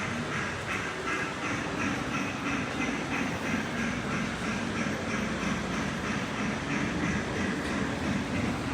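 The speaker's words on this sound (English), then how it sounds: "here's another model train on display." A model train running on a display layout inside Nashville's Opry Mills Mall, a continuous clattering rattle with steady rhythmic clicks, heard fairly close amid the busy hum of the mall.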